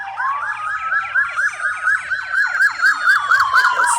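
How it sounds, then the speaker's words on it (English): A loud wailing siren cycles rapidly up and down in a steady yelp pattern, close by, with faint traffic rumble beneath. "we have all these sirens going off in this video here"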